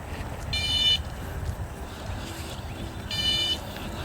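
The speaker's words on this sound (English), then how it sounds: "And of course, our famous little horn over here." Two short electronic beeping horn blasts from an Electric Bike Company Model A cruiser sound about two and a half seconds apart over a low background rumble.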